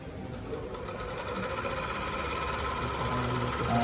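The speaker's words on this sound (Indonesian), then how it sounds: "kita putar hingga kecepatan motor DC-nya mencapai 3000 rpm" A DC motor fed from a power supply spins up toward 3000 rpm, its buzzing whir rising steadily in pitch and loudness over a few seconds, close and continuous with no talk.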